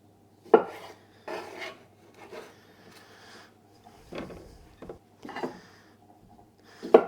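A knife halves potatoes for roasting on a cutting board, several separate thuds and short scraping cuts spaced out irregularly, close by in a quiet kitchen, with no voices.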